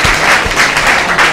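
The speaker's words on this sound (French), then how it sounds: "Applaudissements." A studio audience on a TV talk show applauds loudly for Monsieur Soumalo Ouattara. The clapping is close and continuous, with a few heavier thumps underneath.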